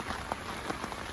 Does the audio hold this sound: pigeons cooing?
no